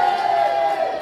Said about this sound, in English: we will allow a cheer for that